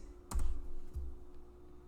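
A computer keyboard sounds during Python package work, with a quick burst of close keystrokes near the start and one more tap shortly after, over a low steady hum.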